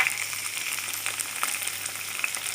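Pointed gourd (potol) fries in oil, a close, steady, crackling sizzle dotted with small pops, with no voices over it.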